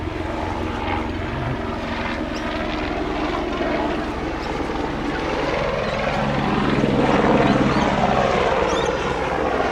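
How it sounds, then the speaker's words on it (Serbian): Helicopter flying overhead above the Spit at Gold Coast, Australia, its steady rotor thump and engine drone loud and continuous, swelling slightly as it passes. "Helikopter."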